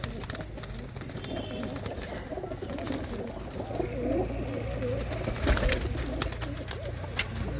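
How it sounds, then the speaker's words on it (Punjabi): Several pigeons coo in low, soft, rolling calls close by, overlapping continuously against a noisy background. "ਬਹੁਤ ਹੀ ਸ਼ਾਨਦਾਰ ਕਬੂਤਰ ਨੇ"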